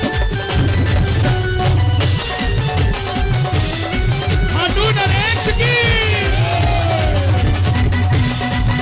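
Crowd at a live Khatu Shyam bhajan concert shouting and whooping over loud music with drums, sustained cheering and yells throughout.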